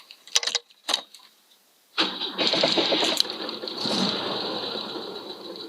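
A Volvo 145 engine is cranked with a few short whirring starter bursts, then catches and settles into a steady, close idle after its oil change.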